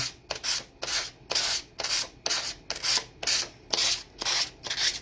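Rhythmic hand sanding, about ten short gritty strokes in a steady back-and-forth, close and fairly loud, with no voices.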